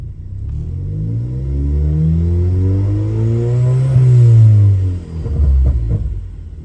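Car engine revving up and holding near 3,300 rpm in neutral during a misfire monitor correction, a loud steady rising drone with a brief dip before settling again, no voices.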